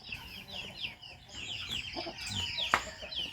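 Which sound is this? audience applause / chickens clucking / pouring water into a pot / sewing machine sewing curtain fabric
chickens clucking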